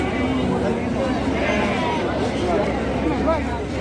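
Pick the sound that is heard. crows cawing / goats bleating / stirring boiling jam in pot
goats bleating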